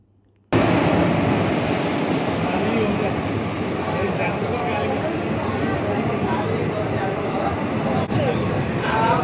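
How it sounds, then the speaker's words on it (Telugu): A loud, close train roars steadily past while arriving at a station, with continuous rumbling and a faint squeal of wheels. "ఇప్పుడైతే ట్రైన్ వచ్చింది"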